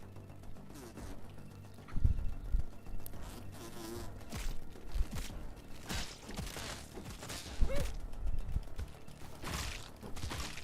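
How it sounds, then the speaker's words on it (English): Buzzing insect drone from a mosquito enemy in the survival video game Grounded 2, a steady faint whine running throughout with scattered game thumps and footsteps underneath. "There might be a mosquito or two to fight"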